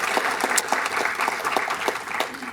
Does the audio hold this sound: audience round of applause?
yes